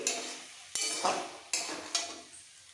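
A cauliflower stalk curry is stirred in a pan with a utensil, four distinct scraping strokes over a quiet background sizzle, close and fairly soft.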